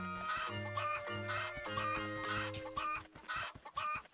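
A chicken from The Legend of Zelda: Echoes of Wisdom clucks in quick repeated bursts over a game's stepped musical tones, with a faint crowing note; no talk.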